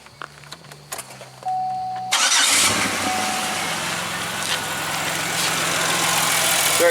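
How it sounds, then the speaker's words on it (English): A 2008 Pontiac Grand Prix engine cranks and catches after some quiet clicks and beeps, then settles into a loud, steady idle heard up close. "get your car started."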